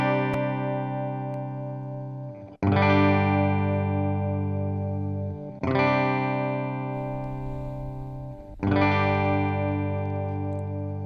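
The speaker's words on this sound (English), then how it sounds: "that is with like a Fender Twin Reverb amp, modeling it anyway" A Gretsch hollow body electric guitar on the bridge pickup, through a modeled Fender Twin Reverb amp, strums four clean chords, each ringing out long before the next one.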